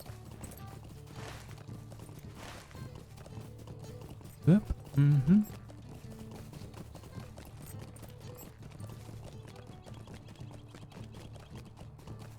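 A horse clip-clopping along in The Lord of the Rings Online, a soft, steady hoof rhythm under game music, with someone briefly speaking and a few louder bumps midway.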